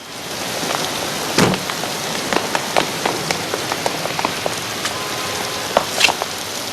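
Rain falls in a film scene, a loud, close patter on hard surfaces, with sharper drops and splashes standing out every second or so.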